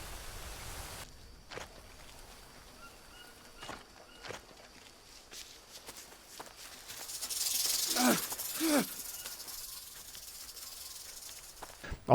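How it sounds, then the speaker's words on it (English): A snake hisses in the jungle survival game Green Hell, a quiet breathy hiss building around the middle of the ambience with a couple of sharper bursts, fairly close, alone without talk. "Listening to the rattling of the snakes, listening to the hissing of maybe a spider that's like making a hissing sound at you"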